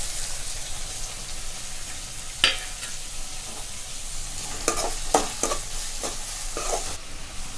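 Onion and tomato frying in a pan for groundnut kuzhambu, a steady sizzle with a few scraping stirs of the spoon breaking through, close and continuous.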